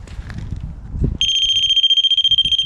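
A smoke detector in a basement of an abandoned psychiatric hospital bursts into a steady high-pitched electronic beeping after a brief low rumble of handling, loud and near, pulsing rapidly without voices.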